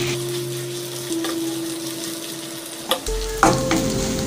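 Cleaned dried prawns fry in hot oil, a continuous close sizzle with scraping stir strokes and a couple of sharper clatters near the end as they turn golden brown.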